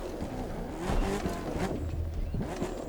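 A monster truck in The Crew 2 video game pops a wheelie after flipping on a rock, with a revving, whining engine and tyre squeals in rising sweeps, moderately loud with no talk.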